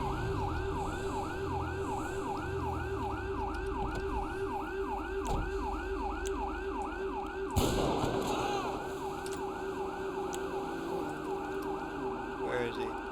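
Police siren from the FivePD mod in a video game wails in a steady, rapid cycling yelp for the whole stretch, loud and continuous, with a brief burst of noise midway.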